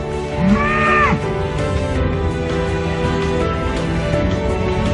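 Dairy cows moo in a barn at milking time, with one loud, close, rising-and-falling call early on and fainter lowing from others. A steady mechanical hum runs underneath.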